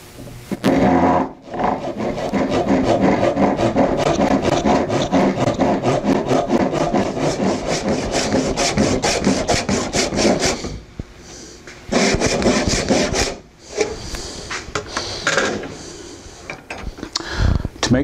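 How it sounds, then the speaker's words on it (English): Handsaw cutting a kerf into the top of a trimmed wooden axe handle to take a wedge, a steady rasping back-and-forth stroke running loud and close for most of the time, breaking off briefly near the end before a few final strokes. "I need to cut the kerf to receive the wedge. And I'm just going to do that with a handsaw."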